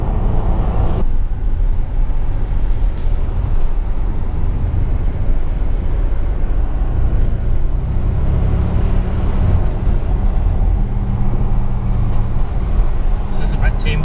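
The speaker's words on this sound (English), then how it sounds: "Now in the Audi RS7, and yeah, it's got a bit of oomph." Audi RS7 engine under way at Millbrook proving ground, a constant heavy cabin drone with road and wind roar throughout, and a brief thump near the start.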